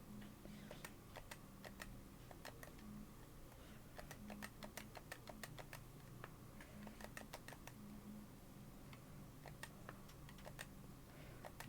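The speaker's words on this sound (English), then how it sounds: "Oh yeah, that's the power of the DualSense. You get to hear my buttons clicking." A DualSense game controller's buttons click in quick, irregular runs of sharp, light taps over a low steady background hum, quiet and close, with no voices.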